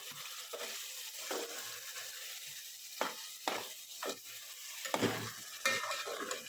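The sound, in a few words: stirring gravy in pan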